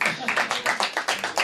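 An audience claps in steady bursts at a Hindi poetry recitation, the applause rising and falling in quick rhythmic waves, close and lively.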